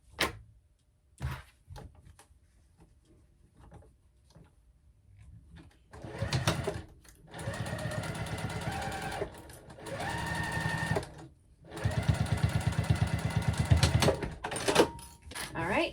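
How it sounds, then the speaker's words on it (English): Sewing machine basting a flap piece with a magnetic snap onto a fabric clutch at a narrow seam allowance, running in three steady bursts separated by short pauses, near and fairly loud after a quiet start. "Clip that, and then baste that on at 1/8 of an inch seam allowance."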